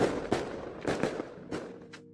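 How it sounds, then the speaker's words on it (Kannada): Diwali firecrackers go off outdoors in a quick run of about half a dozen sharp bangs at uneven intervals, each a short crack that fades fast, heard from a moderate distance. "ಪಟಾಕಿ."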